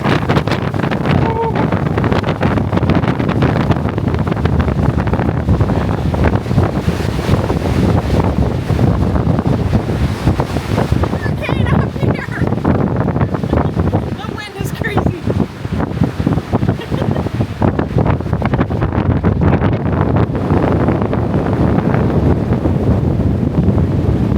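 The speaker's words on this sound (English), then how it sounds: "Yes, it is very windy also." Heavy wind buffets the microphone in a constant loud roar at a mountain overlook on Seneca Rocks, West Virginia, with a faint voice speaking beneath it.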